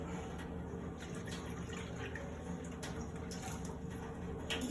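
Water poured into a cooking pot while making crab sukka, a steady continuous splashing and gurgling stream that runs unbroken and fairly close throughout.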